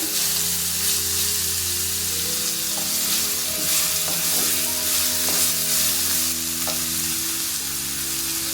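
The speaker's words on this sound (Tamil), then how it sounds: "இந்த கேரட்டு நல்லா கொஞ்சம் வெந்து வர வரைக்கும் கிளறி விடுங்க." Carrots frying in a pan give off a loud, steady sizzle, joined by a few light scraping stirs and clinks from a utensil, close and continuous with no one speaking.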